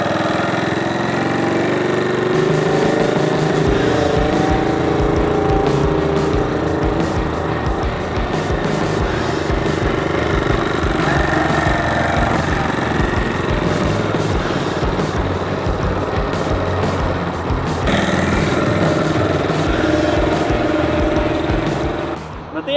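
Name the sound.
moped engine running during test ride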